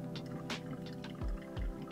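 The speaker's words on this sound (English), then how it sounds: "So pouring always in a circular motion." Hot water trickles in a circular stream over coffee grounds in a V60 pour-over filter, making soft, steady splashing and dripping sounds up close with a few low gurgles.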